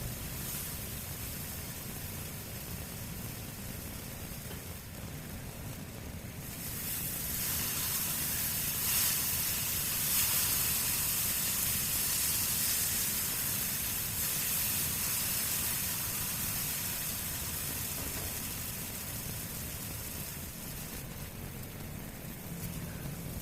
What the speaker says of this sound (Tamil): மசாலாவோட பச்சை வாசனை போகிற வரைக்கும் நல்லா வதக்கணும்